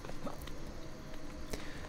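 Rhythmic hoof clip-clops of a horse in Assassin's Creed Brotherhood over a steady game soundscape, sharp taps recurring at a moderate pace.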